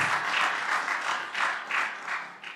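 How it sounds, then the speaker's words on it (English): Audience applauds a token of appreciation, a plate presented at a ceremony, with a lively, continuous round of clapping in gently swelling waves, fairly close and loud. "Please. Applause."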